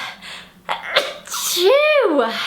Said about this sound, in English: I'm gonna sneeze. Achoo!